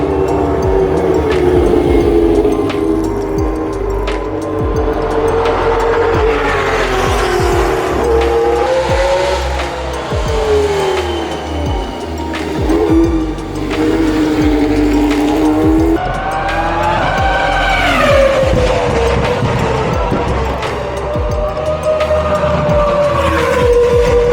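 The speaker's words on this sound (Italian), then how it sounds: "Le Formula 1 storiche di Ferrari F1 clienti sfrecciano per le strade del Principato." Historic Ferrari Formula 1 cars with V10 engines racing through the streets of Monaco, their loud, high-pitched engines wailing and rising and falling through gear changes as they pass close by one after another, with no talk.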